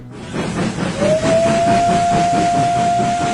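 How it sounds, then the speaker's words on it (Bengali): A loud, sustained steam whistle rises and holds a steady tone over the chuffing rumble and hiss of a coal-fired steam locomotive. "ট্রেনটা একরাশ কালো ধোঁয়া আর ছাই উড়িয়ে ঢুকলো ঝাঁঝাগঞ্জ নামক এক স্টেশনে।"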